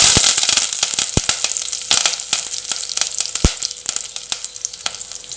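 Curry leaves and dried red chillies crackle and sizzle loudly in hot oil for a Tamil paruppu puli kulambu, with steady frying hiss broken by sharp pops and spits throughout.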